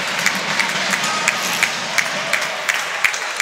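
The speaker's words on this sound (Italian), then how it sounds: "un applaudito Perez" Basketball arena crowd at a Meta Formia versus Nuova Lazio Riano game applauding a substituted player, with a steady wash of clapping and crowd noise and sharper claps popping through.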